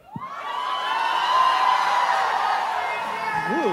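An audience at a Christmas concert screams and cheers loudly and steadily, a sustained roar of voices that swells and then holds. A short whoop rises above the crowd near the end.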